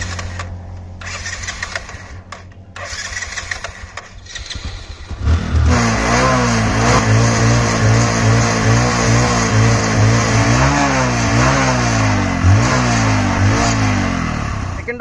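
A Bajaj Discover 100 motorcycle with an old, carbon-fouled engine idles unevenly, then is revved hard and held loud, its pitch rising and falling in repeated surges close to the microphone.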